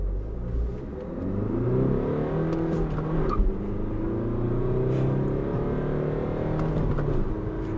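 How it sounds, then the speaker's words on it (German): A 2021 Fiat Tipo estate accelerating hard from inside the cabin, engine note climbing through gears with rising harmonic sweeps and brief dips at each shift, steady and fairly loud. "dann beschleunige ich mal durch und wahrscheinlich 10 Sekunden schaffen wir"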